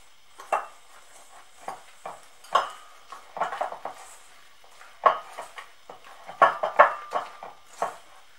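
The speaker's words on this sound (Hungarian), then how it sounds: "a lisztet, és ezeket homogénné keverem" A utensil stirs flour into cocoa cake batter in a bowl, with intermittent clinks and scrapes against the dish in an irregular rhythm, fairly quiet and close, with no talking.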